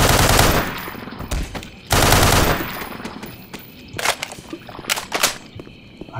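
HECU Marines firing in the Black Mesa video game: two loud bursts of rapid automatic gunfire, then a cluster of sharp separate shots, with quieter pauses between.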